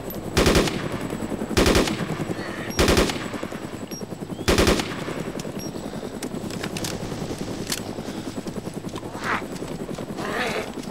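Sniper gunfire in a survival video game: four loud, sharp shots ring out at uneven intervals over a constant background drone, with fainter noises later and no talking.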